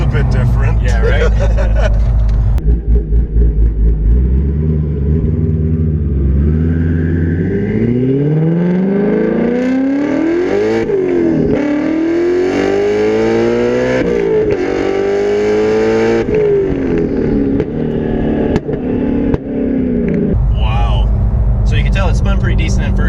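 An 800R twin-turbo Ford GT350 on stock tires pulls hard through first and second gear, its engine climbing in pitch, dropping at the upshift, then rising again loudly up close, with people talking over it inside the car.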